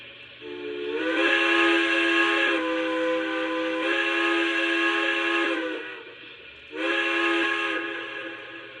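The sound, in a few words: model steam locomotive whistle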